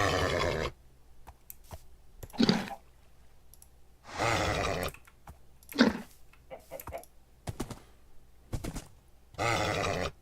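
Several loud whinnies from a horse in a video game recur between stretches of keyboard typing and mouse clicks, each neigh a breathy, rising burst.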